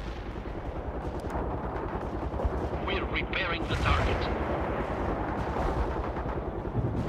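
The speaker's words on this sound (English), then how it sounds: "Heavy gunshot." Heavy gunfire rattles and booms in the real-time strategy game World in Conflict, a dense unbroken barrage of shots and distant artillery thuds running throughout, while radio-style voices talk over the battle.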